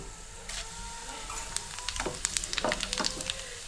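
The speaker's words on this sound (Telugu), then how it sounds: "కొంచెం కాలినాక వేస్తానమాట జీలకర్ర వేసుకున్నాం స్పూను" Cumin seeds crackle and sizzle in hot oil in a pan while a cucumber, brinjal and tomato chutney tempering is prepared, with sharp irregular pops rising through steady frying hiss.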